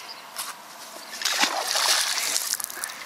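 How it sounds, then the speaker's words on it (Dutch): Big splash of a magnet thrown into water while magnet fishing in Friesland, a sudden bright splash followed by sloshing and bubbling water, close by with no talk. "Alweer een grote plons."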